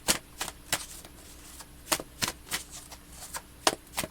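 Tarot cards are shuffled by hand in quick, irregular bursts of riffling and slapping, close and fairly loud, with short pauses between each flurry and no talking.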